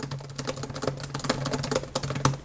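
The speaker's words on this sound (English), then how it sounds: "I'll just copy what I wrote above and try typing as fast as I can." Fast typing on a Lenovo Duet 7i laptop keyboard, a dense, rapid stream of close, crisp key clicks with a steady background hum.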